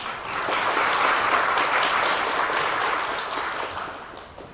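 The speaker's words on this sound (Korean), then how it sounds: "격려와 감사의 박수 드리겠습니다." A church congregation applauds the choir in thanks and encouragement, full steady clapping that rises quickly, holds strong, then tapers gently toward the close.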